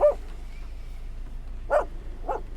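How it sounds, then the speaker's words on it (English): A dog yaps three times, sharp high barks spaced apart at moderate distance over a quiet, faintly humming background. "the dog that loved to yap."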